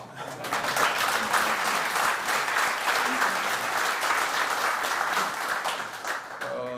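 A room full of people claps steadily for several seconds, dense and sustained, then the applause tapers off at the end.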